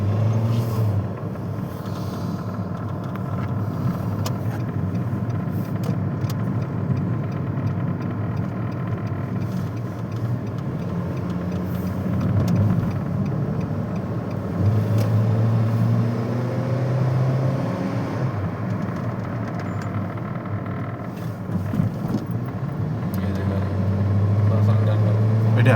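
A heavy six-cylinder vehicle engine runs continuously, a loud, low, steady drone that swells slightly at times, with people talking over it.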